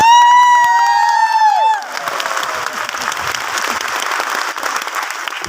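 An auditorium audience at a live program in New Delhi breaks into loud applause and cheering. A sustained tone plays at the start, and the clapping then continues steadily.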